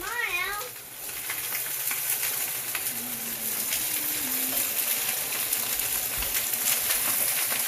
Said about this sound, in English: Stir fry it in. Come on, Ellie, get the bok choy in there.